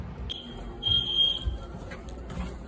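A hotel fire alarm sounds as a high, steady electronic tone in two short bursts, heard from a distance through a room against a low background rumble.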